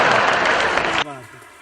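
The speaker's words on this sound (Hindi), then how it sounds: "गीत खत्म हो गया, ताली बजाओ।" An audience at a Hindi kavi sammelan breaks into a loud burst of clapping after a poem recital, which cuts off sharply after about a second, leaving a faint tail.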